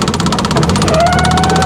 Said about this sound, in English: Sounds like the fuel pump's running out of gas.